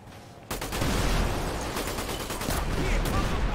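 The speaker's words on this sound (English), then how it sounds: "Vehicles explode on impact" A vehicle explodes on impact in GTA 5 amid chaotic mods, a sudden loud onset followed by a sustained crackling roar of fire and debris with sharp bursts throughout.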